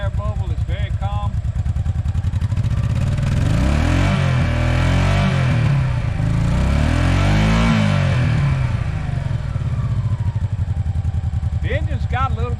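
A Honda Pacific Coast 800cc V-twin motorcycle engine runs steadily close by with a deep, throbbing idle, revving up briefly in the middle before settling; a person speaks over it at the start and end.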